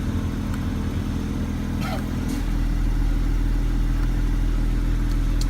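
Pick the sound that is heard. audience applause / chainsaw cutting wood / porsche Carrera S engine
porsche Carrera S engine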